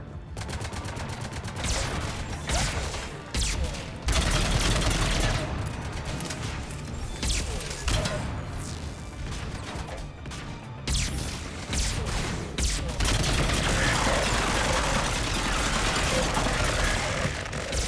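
Turret gunfire in the video game Mass Effect 3 crackles in rapid bursts and volleys with sharp shots and crashes, a loud, continuous battle clamour lasting throughout.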